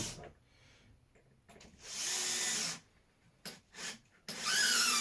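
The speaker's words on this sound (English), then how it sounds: "I'll screw that in." A power drill drives screws into a new bedroom floorboard. Its motor whirs in two short, loud bursts with a few fainter taps and rustles between them, all close by.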